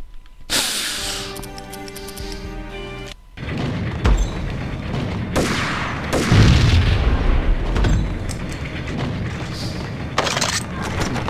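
Rapid video game gunfire emptying a magazine, heavy booming shots and thuds in dense bursts over about eleven seconds, loud and close, with music-like tones early on.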